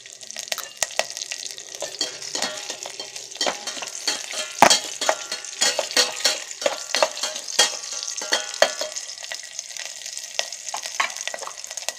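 Onions fry in an electric kettle with a steady close sizzle, broken by the clatter and scrape of stirring throughout.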